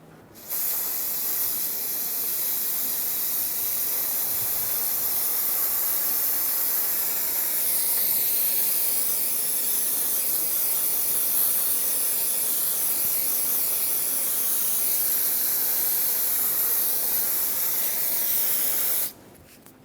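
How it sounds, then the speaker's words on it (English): Brake parts cleaner sprays in one continuous, steady aerosol hiss onto the front brakes of a 2000-2005 Ford Excursion, close and loud for nearly twenty seconds, with no talking. "rinse it all off with some brake parts cleaner"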